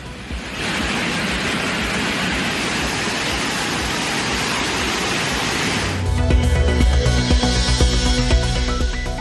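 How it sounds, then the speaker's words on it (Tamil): Suruli waterfall in the Meghamalai forest, swollen after heavy rain, gives a steady, loud broadband roar of rushing floodwater for about six seconds before music takes over. "மேகமலை வனப்பகுதியில் கனமழையால் சுருளி அருவியில் வெள்ளப்பெருக்கு."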